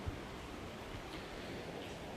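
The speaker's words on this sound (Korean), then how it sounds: "현재 인천항 앞바다엔 최대 초속 18m의 바람이 불면서 3m의 높은 파도가 치고 있습니다" Typhoon waves and wind batter Incheon harbour, where about 800 boats sit moored at the pier; a continuous, fairly faint rushing roar of surf and gusting wind with no break.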